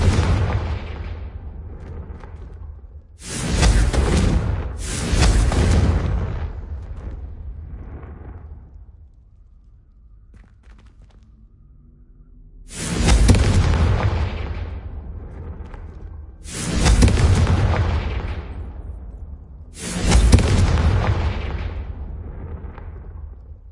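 Confringo fire spells blast in Hogwarts Legacy, five loud booming explosions in two clusters with fading rumbling tails and a quiet lull between them.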